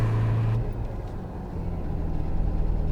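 A Nissan AD car drives along a road, its engine and tires giving a steady, loud low rumble heard from inside the cabin, slightly swelling toward the end, with no talking.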